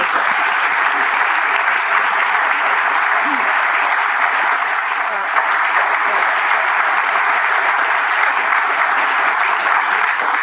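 An audience applauds steadily and warmly as Dr. Madeleine Albright is welcomed onstage at a talk on diplomacy, a dense, even wash of clapping from a large crowd that holds without pause throughout.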